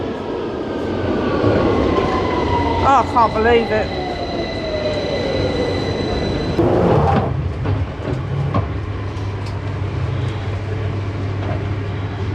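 A London Underground train at Aldgate station, with rumbling carriages, squealing wheels and a rising motor whine close by, continuing for several seconds while a person speaks briefly over it.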